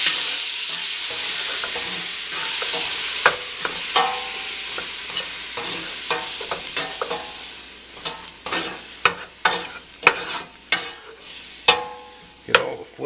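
Onions frying in butter and bacon fat for soup, a loud close sizzle that later thins into bursts of crackling and sharp spatters between stirs, with no one speaking.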